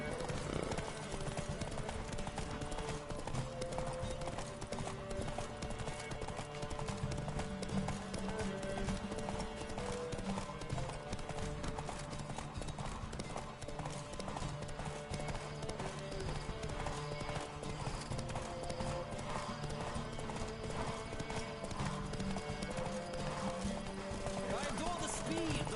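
Rapid hoofbeats of galloping horses in a Witcher 3 race thunder steadily over dense game music and ambience, with an occasional whinny rising above the mix.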